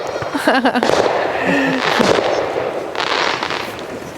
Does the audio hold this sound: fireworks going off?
yes